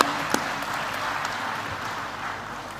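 An audience claps steadily at a youth innovation and technology panel during a diaspora conference, dense and moderately loud from start to finish with no voices over it.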